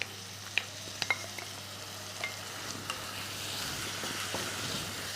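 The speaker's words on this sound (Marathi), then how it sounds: "कांदा हलका असा ट्रान्सपरंट झाला की याच्यामध्ये आपण चॉप केलेली ही शिमला मिर्च टाकूया." Chopped capsicum frying with softened onions in a pan for street-style pav bhaji, with a steady soft sizzle, occasional clicks of stirring against the pan, and no talking.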